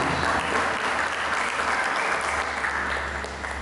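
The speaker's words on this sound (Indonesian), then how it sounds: "Kita berikan tepuk tangan buat Dia." Applause from a church congregation after the preacher's call, a dense, sustained patter of many hands that holds steady and eases slightly toward the end, with a low hum beneath.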